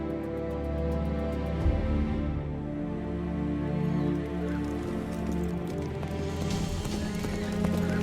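Ancient Egyptian war horses pulling Pharaoh's chariots in pursuit, a dense dramatized mass of clattering hooves and whinnies over a steady rushing roar, loud and continuous throughout.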